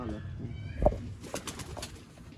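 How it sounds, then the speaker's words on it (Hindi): A male Sialkoti pigeon gives a short, soft coo close by, with a single brief low call standing out from quiet background noise and faint murmurs. "ये देखिए दोस्तों कबूतर"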